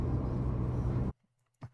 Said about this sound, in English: Yeah, it is a noisy car.